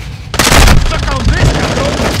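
A flash grenade goes off in Call of Duty: Modern Warfare II, a loud sudden bang followed by a ringing, noisy aftermath that stays strong to the end.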